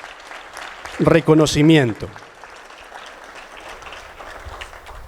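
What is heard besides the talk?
audience applause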